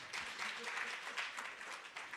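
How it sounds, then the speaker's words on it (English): An audience in a university symposium hall applauds, a dense wash of clapping held at a steady level for a couple of seconds, heard at a faint distance. "Let's clap hands for him."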